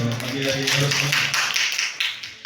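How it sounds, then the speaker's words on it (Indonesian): A group of vocational high school teachers at a workshop break into brisk clapping after a brief voice, the claps building into a close, uneven patter that fades near the end. "tepuk tangan untuk kita semua"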